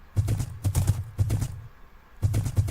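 Clip-clopping horse hooves in Minecraft trot in quick bursts of rhythmic clatter, pausing briefly before resuming, with a slightly artificial, game-like quality.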